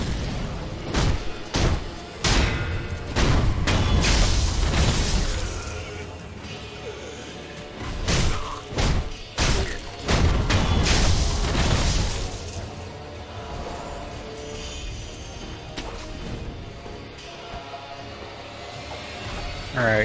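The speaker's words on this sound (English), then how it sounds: "what the hell are they throwing? Oh, it's like bombs." Sekiro combat with monkeys throwing bombs: repeated loud, sharp explosive bangs and crashes in uneven clusters over about twenty seconds, with busy game noise between the blasts.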